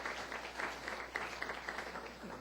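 A church congregation gives short, soft applause during a Sunday service, scattered clapping in a reverberant hall, heard from a distance.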